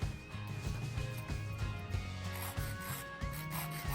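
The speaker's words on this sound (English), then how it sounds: "if you feel like you've got some rough edges, I just use a nail file." A nail file rubbing back and forth over the rough edges of a small carved oar handle, a close, continuous scratchy rasp in quick repeated strokes with faint tonal hum behind it.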